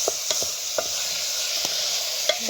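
Meat and onions fry in a little oil for Ethiopian tibs, a constant bright sizzle close by, punctuated by a few sharp clicks of a utensil against the pan, with no speech.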